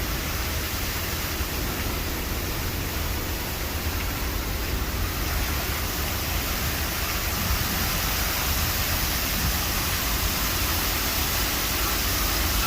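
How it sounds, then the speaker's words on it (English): Heavy storm water and flash flooding in Little Rock, Arkansas, make a loud, steady, unbroken roar of rushing water and rain with no pauses or voices over it. "Y'all, it's flooding."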